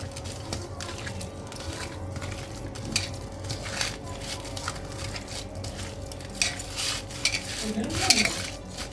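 Chicken marinade for chicken macaroni is stirred and mixed in a bowl with a spoon, wet squishing strokes and light scrapes and clinks that repeat irregularly, growing busier toward the end.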